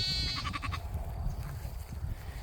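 A flock of sheep and a herd of goats bleat in a pasture, with one loud nearby bleat at the start and more animals calling over a low background rumble.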